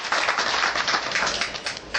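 Audience at a Gita society gathering applauding to welcome new members, a full, even burst of many hands clapping close by for about two seconds.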